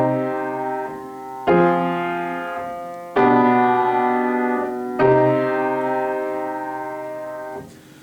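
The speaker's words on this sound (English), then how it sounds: "So a TPDT progression in minor using only primary triads sounds like" Three sustained chords in a minor key follow one another, each struck cleanly and left to ring and fade, played alone with no voice over them.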